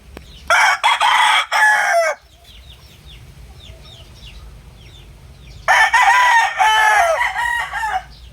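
A three-month-old Kelso gamefowl rooster crows loud and close, two full cock-a-doodle-doo calls separated by quieter clucking and bird chatter.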